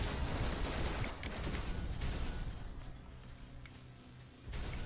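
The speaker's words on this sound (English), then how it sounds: "Well, that was full of explosions and death." A battle in the video game DC Universe Online produces a dense barrage of explosions and gunfire-like blasts, loud and continuous, dipping briefly before another burst at the end.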